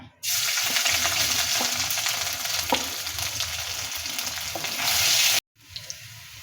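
Ginger and garlic frying in hot coconut oil in a pan for a bitter gourd curry, a loud continuous sizzle with faint stirring scrapes that cuts off abruptly near the end, followed by quieter crackling.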